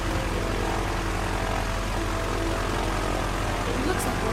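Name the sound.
propeller plane engine starting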